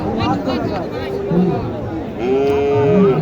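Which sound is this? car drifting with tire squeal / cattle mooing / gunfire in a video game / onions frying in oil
cattle mooing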